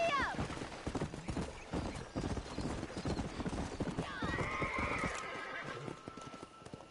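In the video game Red Dead Redemption, a horse's hooves clop in a fast, steady gallop, close and loud, and a whinny rises near the end over the running hoofbeats.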